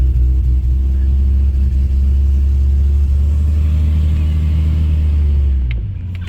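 A 1954 Hudson Hornet's engine runs with a loud, steady low rumble close by, holding an even drone before easing off and fading slightly near the end; no talking over it.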